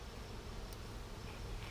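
Honey bees from a package colony hum as a steady, close insect buzz that stays even throughout.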